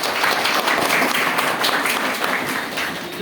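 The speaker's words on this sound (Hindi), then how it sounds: "इनके लिए भी आप लोग ताली बजाइए।" An audience at a motivational talk for exam aspirants applauds, a loud, dense, steady clapping that fills the whole stretch.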